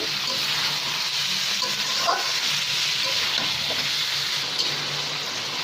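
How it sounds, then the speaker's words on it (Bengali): Mutton pieces fry in a pan while being stirred, giving a continuous close sizzle with a few scraping stir noises over it and no talking. "এখন একটু মাংসটা কষিয়ে নেব।"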